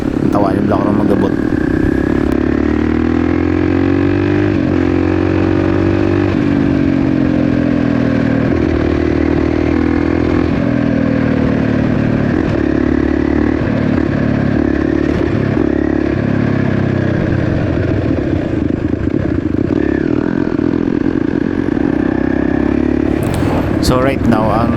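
A supermoto motorcycle with long-travel suspension rides a road toward Libacao, its engine droning loudly and steadily up close with shifting pitch as it revs, while a voice talks over it.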